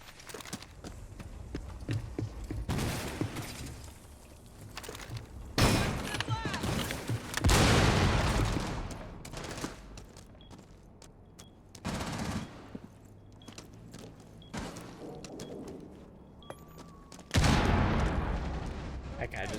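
Grenade blasts and bursts of gunfire ring out in a Rainbow Six Siege match on the Kafe map, loud sharp explosions and rattling volleys separated by quieter stretches, with a player talking over parts of it.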